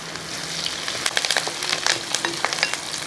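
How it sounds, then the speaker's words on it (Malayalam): Mixture with curry leaves sautéing for a green gram curry, a steady frying crackle with repeated spatula scrapes and stirs, close and fairly loud throughout. "അപ്പോൾ ഇതെല്ലാം കൂടെ നന്നായിട്ടൊന്ന് വഴറ്റി കൊടുക്കുക"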